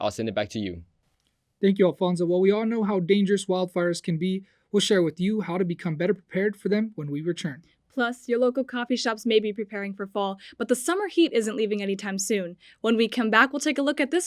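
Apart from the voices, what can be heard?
None of the usual background noises is heard.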